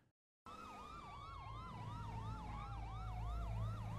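Emergency vehicle siren on dash cam footage, resembling the Grand Theft Auto siren, a rapid warbling yelp wailing steadily after a brief silence, with a low engine drone beneath.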